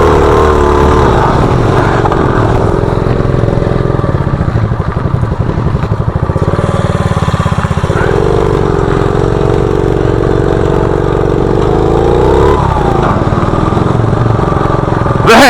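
A motorcycle engine drones loud and continuously while riding in third gear, pitch rising and easing with throttle against heavy wind rush, close to the rider, with some voices mixed in.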